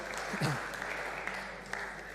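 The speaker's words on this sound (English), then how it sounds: "Round of applause for those people." A congregation claps in a round of applause, heard fairly quietly and somewhat distant, with steady clapping and a murmur of voices underneath.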